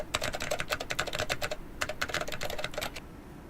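Rapid typing on a computer keyboard, crisp close key clicks in two quick bursts separated by a brief pause, heard alone without voices.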